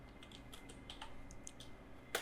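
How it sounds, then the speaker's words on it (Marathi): Someone types on a computer keyboard, a quiet, irregular patter of separate key clicks with brief pauses and one sharper final tap, fairly close and without talk. "तर मी या ठिकाणी नाव टाईप करणार आहे"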